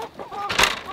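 Chickens cluck and squawk close by, with a louder burst of fowl calls in the middle of the short stretch.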